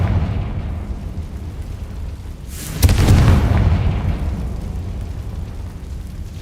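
A Confringo blast spell goes off in Hogwarts Legacy, a single sudden boom followed by a rumbling, fading roar over steady game ambience.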